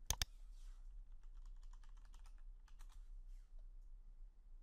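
Computer keyboard typing out a plugin search, a quick run of soft, close key clicks after a couple of sharper initial taps, quiet and without voices.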